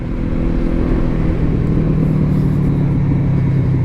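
A 2014 Honda VFR800 motorcycle engine drones steadily and loudly close by, a constant rumbling hum with no clear rise in revs, held in second gear.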